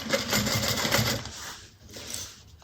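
A sewing machine stitching a bag in short bursts, the rapid needle chatter loud and close at first, then easing off and picking up briefly again.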